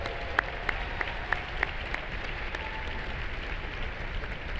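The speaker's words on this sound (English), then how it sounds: "Please give them one more round of applause." A gala audience applauds in a dense, steady wash of claps heard from within the hall, with a few louder nearby claps standing out at the start.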